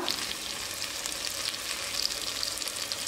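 Spice powders for chicken biryani sauté in a pot, giving a steady, close frying sizzle with faint stirring scrapes that runs unbroken and alone throughout.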